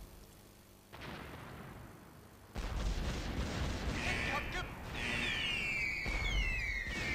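Bomber attacks in the naval strategy game Teitoku no Ketsudan 4 bring a dense, continuous roar of explosions and gunfire that swells partway through, with whistling falling tones layered on top.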